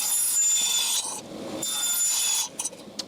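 A table saw cutting wood for the sides of a simple tea box, with a blade set just over a quarter inch: a loud steady rasping cut for about two and a half seconds, then a few short knocks.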